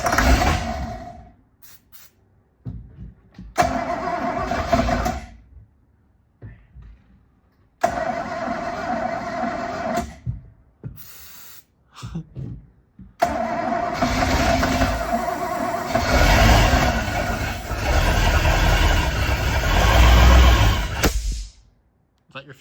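A boat engine being cranked after its fuel pump is primed: several loud, close bursts of starter cranking separated by pauses, then the motor catches and runs roughly. People talk between the attempts.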